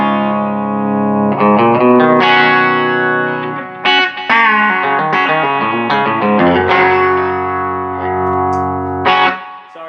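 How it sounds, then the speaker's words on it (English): Electric guitar played through a Quilter SuperBlock US amp with delay, ringing chords and single notes loud and close, repeating echoes trailing each phrase with a slightly distorted edge. "Sorry, I had delay on there."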